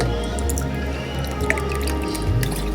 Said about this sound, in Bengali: চার কাপ জল দিয়ে দিলাম